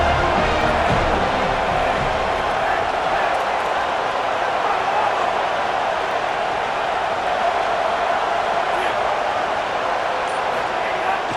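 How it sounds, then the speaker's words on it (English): Steady, dense roar of a stadium crowd at a Miami vs Florida State college football game, continuous and loud throughout without clear peaks. "This crowd bringing the energy and noise early."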